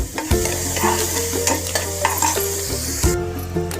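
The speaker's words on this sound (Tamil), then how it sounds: "உப்பு போட்டு அதையும் நல்லா வதக்கிக்கிறேன்" Onions sauté with salt in a hot pan, a steady loud sizzle running throughout while a spoon scrapes and stirs in repeated close strokes.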